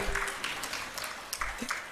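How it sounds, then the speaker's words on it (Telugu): A church congregation claps together in praise during a sermon, a bright crackling burst of many hands rising and falling over about two seconds, fairly close and loud. "చప్పట్లు కొట్టి దేవుని స్తుతిద్దాం"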